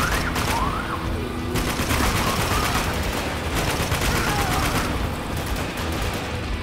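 Turret machine gun with unlimited ammo fires continuously in the Spec Ops: The Line co-op car park extraction, a loud, dense stream of rapid gunfire with scattered other shots mixed in.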